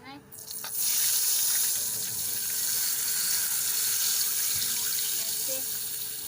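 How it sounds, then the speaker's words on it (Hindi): Water is poured little by little into a pot while making Knorr noodles, a continuous splashing gush that stays fairly loud and steady after a brief start, with faint background noise. "हमने थोड़ा थोड़ा करके पानी डालना है।"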